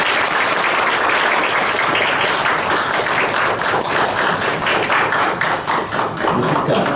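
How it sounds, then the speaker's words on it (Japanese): Thick, sustained audience applause at a Tokyo gathering promoting Asian democracy, loud and even throughout, with many overlapping hands and no speech over it. "ライマンさんに拍手をお願いいたします。"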